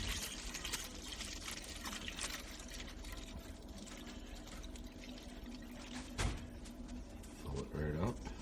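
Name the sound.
milk pouring into stock pot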